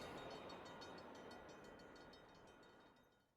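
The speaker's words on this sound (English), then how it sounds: "Goodbye, train." A train rumbles past in a steady broad roar with a faint rhythmic clatter of wheels over rail joints, slowly fading away toward the end, with no voices.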